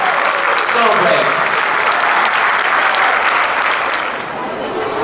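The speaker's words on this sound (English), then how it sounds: "Let's give our high schoolers one more round of applause for being so brave." Loud, dense audience applause for high school drummers at a drumline sendoff, sustained clapping and cheering close by that eases slightly near the end.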